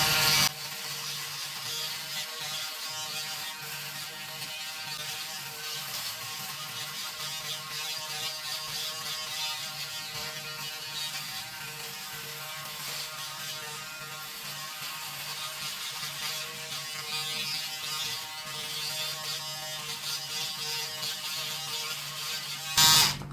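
A Braun Series 5 electric shaver runs in turbo mode, a steady close high-pitched motor buzz held unbroken for the whole stretch, with brief clicks at the start and end.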